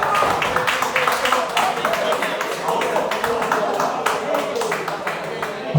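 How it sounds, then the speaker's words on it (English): Audience applause and clapping at an open mic comedy night, a dense steady patter of many hands filling the room for several seconds with some voices mixed in. "Round of applause for my sister's honour."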